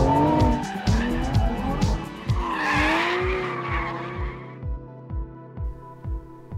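Sports cars including an Aston Martin V12 Vantage S, Mercedes-AMG GT R and Porsche 911 GT3 RS sliding on the Anglesey circuit, with tires squealing loudly through a long slide over engine roar, then a series of rhythmic engine pulses fading out.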